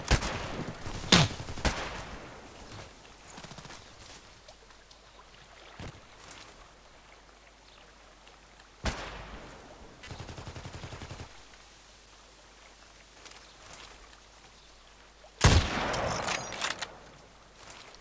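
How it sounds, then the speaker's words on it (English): Sporadic bursts of gunfire in the online shooter Contract Wars, on a lighthouse map, ring out in short, sharp volleys between quiet stretches, with a louder burst near the end. "Blind shooting."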